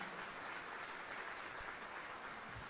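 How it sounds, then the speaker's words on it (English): An audience applauds for a city alderman at a live community event, a steady wash of distant clapping with no talk over it. "Let's give him a round of applause"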